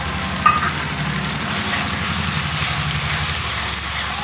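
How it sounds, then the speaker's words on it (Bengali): A paste of chili, onion, ginger and garlic sautés in a pan for katla fish kalia, giving a steady, even sizzle with a faint scrape near the start over a low background hum, close and unbroken. "তো এটাকে আমি কিন্তু এবারে সুন্দর করে কষিয়ে নেব"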